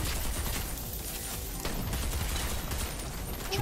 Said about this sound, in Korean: 얘 역시 샷건 당한 것 같아요